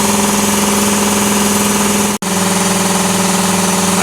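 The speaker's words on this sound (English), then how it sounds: "I actually believe a lot of the noise is coming out of that vent right there, because that is right at the first stage of the compressor" A newly installed air compressor runs loudly with a steady, pulsing mechanical drone and pronounced low hum, the noise venting from its first stage, briefly cut by a sharp dropout midway before resuming unchanged.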